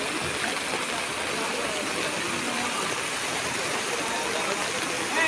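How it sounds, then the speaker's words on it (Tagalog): Loud, continuous rushing of fast-flowing water, a dense unbroken roar of churning flood current with no pauses or voices. "Pataas ang tubig oh. Daloy ng tubig."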